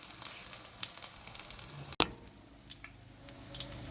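Chapli kababs sizzling in hot oil in a pan, a steady close frying hiss with a sharp crackle as a patty is lowered in, continuing without talk.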